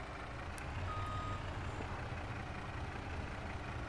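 A big truck in Farming Simulator 25 backs up. A reversing beep sounds over the low, steady rumble of its idling engine, with no speech.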